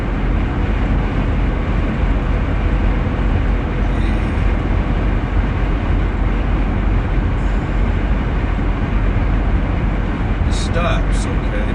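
A New York subway train roars along the rails, a loud, continuous rumble filling the whole stretch, with a few brief high metallic squeals near the end.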